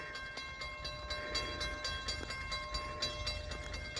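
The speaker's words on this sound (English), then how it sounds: "here comes our first train in 3, 2, 1" A train passes close by during a railfanning outing in Ohio, its steady rolling roar carrying rhythmic wheel clatter and faint tonal ringing throughout.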